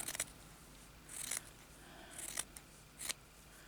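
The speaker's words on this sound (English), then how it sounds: "I have to cut this off here." Scissors snipping threads to free a pre-loved embroidery piece, about four short crisp cuts spaced through a quiet room, close and fairly faint, with no talking.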